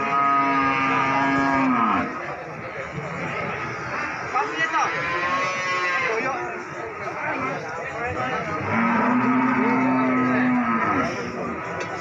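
Brangus cattle at a livestock market give long, loud moos near the start and again near the end, with people talking and market chatter around them.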